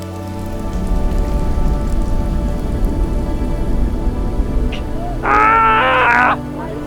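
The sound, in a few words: rain falling on a racing sailing yacht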